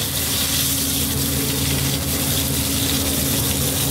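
Pointed gourd (parmal) cooking in a pan on a gas stove, a steady, loud sizzle and hiss that runs without a break, with no talk heard.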